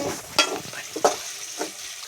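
Spice masala for a corn dish sizzles in a pan while a spoon stirs it, with several scraping strokes over a continuous hiss of frying.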